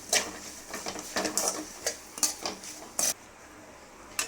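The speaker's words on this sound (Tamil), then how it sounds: "ஜஸ்ட் கொஞ்சம் ஒரு நிமிஷத்துக்கு வதக்கி விட்டோம்னா போதும்" Coriander and curry leaves sauté in a pan, with irregular light clinks and scrapes of a spatula against the metal, close and fairly quiet, with no talking.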